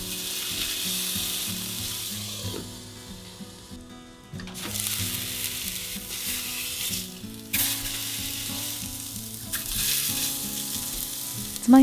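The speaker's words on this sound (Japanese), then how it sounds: "水 50cc を入れて蓋をして中火で5分蒸します。" Meat pan-fries and steams under a lid over medium heat after 50 ml of water is added, producing a long, steady, loud sizzle with rumbling bubbling that surges and eases, close and with no voices.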